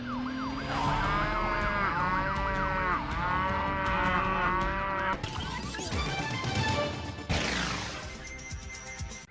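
A cow moos in long, wavering calls, then abrupt shifts to clattering, siren-like noise and dense electronic tones.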